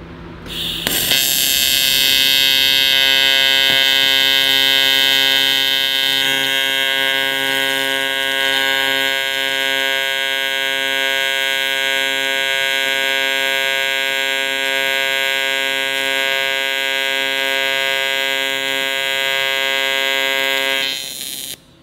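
A welder buzzes and hums steadily and loudly through a long welding pass with filler rod, starting abruptly and cutting off at the end.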